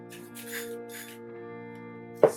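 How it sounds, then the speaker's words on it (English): Several short breathy spritzes from a small spray bottle misting water into a makeup canister, close by, followed by a sharper, louder final burst at the end. "Spray it in my little canister."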